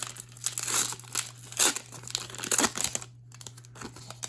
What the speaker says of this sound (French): Wow, le pack est drôlement scellé, mais c'est pas grave. On ouvre ça tout de suite